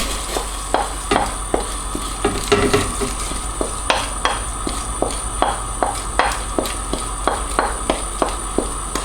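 Rice stirred with scallions in a pot for Jamaican rice and peas, with repeated scraping strokes of a spoon in an irregular rhythm over a steady background hiss and faint sizzle, close and clear.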